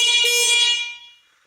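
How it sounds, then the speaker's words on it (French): Loud, piercing horn of an Obarter X5 electric scooter, a single sustained blast held for about a second before ringing away into a fading tail, with no one talking. "le klaxon, c'est un klaxon qui est vraiment très très puissant"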